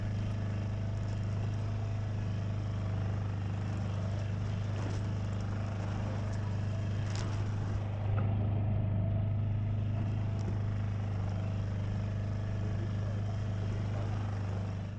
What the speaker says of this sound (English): by letting the engine also run, we kept a good speed